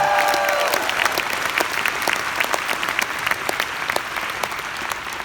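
Steady audience applause fills a recognition event, a dense, loud wash of many hands clapping throughout, with a brief tonal whine at the start and a few sharper individual claps standing out.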